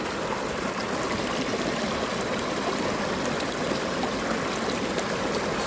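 Steady, close flowing stream water babbles and rushes continuously with no pauses, and no voices are heard.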